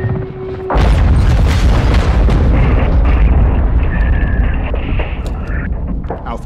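A missile explosion in Call of Duty: Modern Warfare 2 hits suddenly as a loud, deep boom, then rolls into a sustained roaring rumble with debris crackle that fills the whole stretch.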